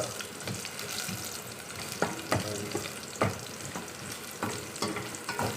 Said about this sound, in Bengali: রসুন ছেড়ে দিলাম। রসুনটা হালকা বাদামি কালার হওয়ার পর